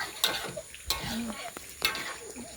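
Pots and utensils clink and scrape as a vegetable dish is stirred at a camp kitchen, with scattered metallic taps and faint sizzling under soft background voices.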